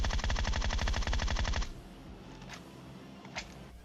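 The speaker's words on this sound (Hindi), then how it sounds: "और अब गोली चला रहे हैं" Loud, rapid automatic gunfire in PUBG Mobile bursts for over a second, then stops, leaving a quieter background with a couple of faint distant shots.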